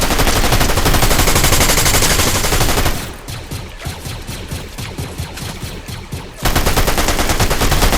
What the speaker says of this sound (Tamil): நான் அதுல கிடந்த ஒரு எஸ்எம்ஜி எடுத்த, நல்ல எஸ்எம்ஜி அது.